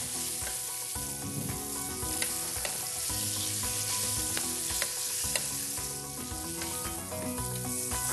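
Onions and sweet peppers fry in oil with spices in a pan, a loud, close, continuous sizzle broken by periodic stirring scrapes and knocks.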